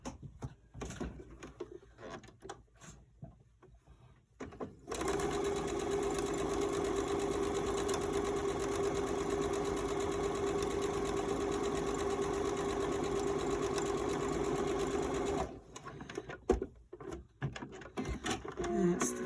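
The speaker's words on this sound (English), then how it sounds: "Now we're going to sew the 2 pieces together along the outside curve." A sewing machine runs steadily for about ten seconds, stitching two face mask pieces together along the outside curve, with quieter handling noise before and after the continuous motor whir.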